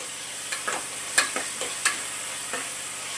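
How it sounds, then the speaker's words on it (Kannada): Tomatoes added over browned onions fry in hot oil for bisi bele bath, a steady close sizzle with several louder stirring scrapes and spatters spaced through the short stretch; no one speaks. "ಟೊಮೊಟೊ ಎಣ್ಣೆಗೆ ಮೆತ್ತಗೆ ಫ್ರೈ ಆಗಬೇಕು"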